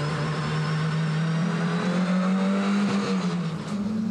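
Onboard a Ferrari GT race car at Red Star Raceway in Delmas, its engine droning loud and steady as it accelerates through the gears, with rising pitch and a brief dip near the end.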